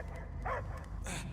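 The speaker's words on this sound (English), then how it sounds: "I hear only barking." Two short dog barks in the video game Guardians of the Galaxy, close and clear, over a constant low electronic hum with faint talk in the background.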